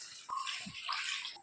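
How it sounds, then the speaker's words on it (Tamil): Water pours steadily into a cooking pot holding rice, lentils and greens, a continuous soft splashing rush with a brief gurgle partway through. "நான் 2 கப்புனால 12 கப்பு தண்ணி சேர்த்துக்கிறேன்."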